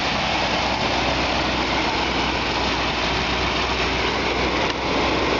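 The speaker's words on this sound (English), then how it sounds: "Still got a good V8 rumble to it." A 1964 Ford Galaxie 500XL V8 engine idles with a deep, steady exhaust rumble, loud and close, holding an even note throughout.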